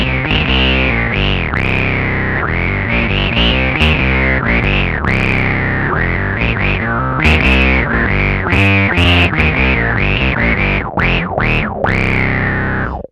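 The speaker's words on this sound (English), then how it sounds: "you'll hear the octave, the filter, and the fuzz really working together to give you a proper synth bass style sound" Bass guitar through a Tech 21 SansAmp Bass Fly Rig set to a Moog synth preset, octave, filter and fuzz combined, gives a loud, thick, buzzing synth-bass line with sweeping filter wahs on each note, played continuously without talk.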